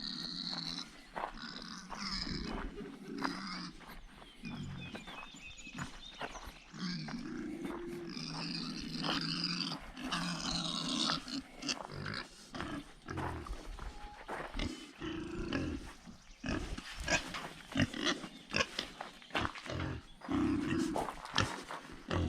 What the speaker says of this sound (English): So our pigs have grown quite a bit.